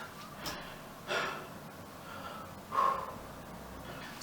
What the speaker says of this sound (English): I just went up the stairs. I shouldn't be this out of breath.